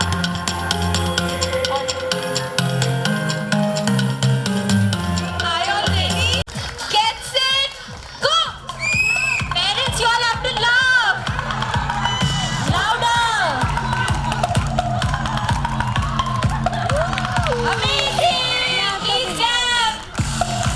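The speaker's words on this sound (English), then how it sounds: "Please cheer them up, everyone." Crowd at a children's sports day cheers and shouts for grandparents in a walking-and-laughing race, with children's voices and whoops throughout, steady and close, and an announcer talking over the noise.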